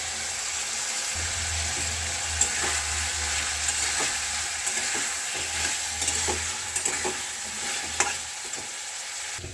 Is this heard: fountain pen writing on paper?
no